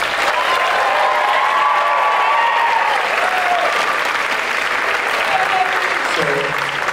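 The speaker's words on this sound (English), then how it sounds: "And a big round of applause to the person who makes all of our chamber music happen, Ms. Whaley." A large high school concert audience applauds steadily and loudly throughout, a dense wash of clapping with faint crowd murmur underneath.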